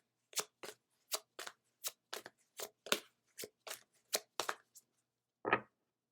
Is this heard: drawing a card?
yes